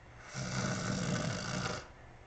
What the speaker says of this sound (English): the screen fades to black again with the snore echoing into the next scene